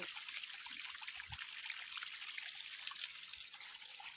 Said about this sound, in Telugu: ఇక్కడ నీళ్ళు పోస్తుంది మోటారు